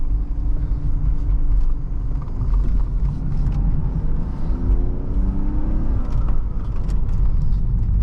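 A 1997 BMW 320i M-Sport Touring heard from inside while driving, a steady low engine and road rumble that rises and eases slightly with throttle, no talking.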